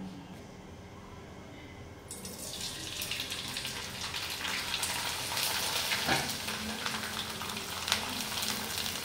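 Rice flour Bobby papad drop into hot oil and fry. After a quiet start, a close sizzling hiss rises and keeps building and crackling, with occasional sharper pops and no speech.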